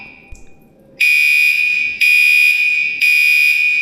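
A smoke alarm in an office restroom blares in loud, piercing beeps about once per second, three long tones in a row after a moment of quiet.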